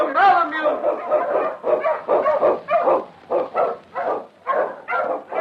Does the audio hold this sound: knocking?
no